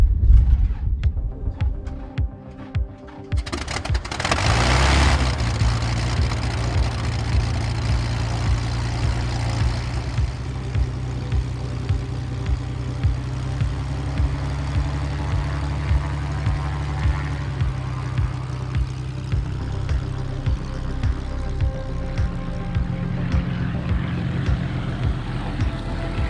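An aerobatic airplane engine heard from the cockpit, starting with a rough sputtering burst and then settling into a steady, loud drone with a low hum and faint creaks.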